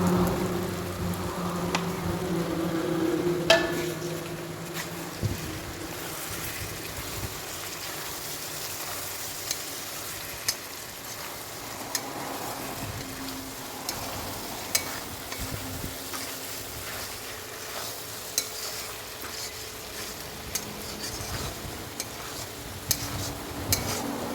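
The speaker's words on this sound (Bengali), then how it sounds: "এঁচড় আলু একসাথে দিয়ে একটু কষে নেব।" Jackfruit and potato stir-fried together in a pan for a Bengali anchor kosha cooked with goat fat, giving a low steady sizzle broken by regular spatula scrapes and taps against the pan throughout, with no voices.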